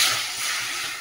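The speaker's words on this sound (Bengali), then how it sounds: "এই যে আলুও ভাজা হয়ে গেছে, এর মধ্যে করে জল দিয়ে দিচ্ছি।" Water is poured into a hot pan of fried tomato, onion and potato, giving a steady loud hiss and sizzle for about a second.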